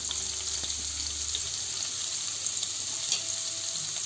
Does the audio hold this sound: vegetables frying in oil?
yes